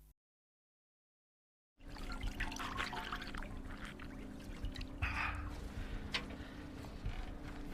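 Milk pours steadily into a water bottle, a continuous close trickling stream after a brief silent start, with faint clinks and splashes.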